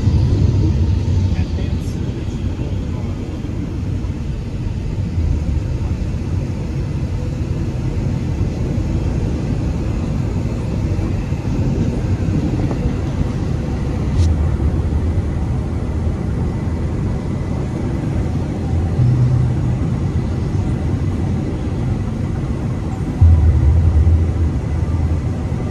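BNSF coal train rolling past with a heavy, continuous low rumble of loaded cars that stays steady throughout, with faint voices underneath.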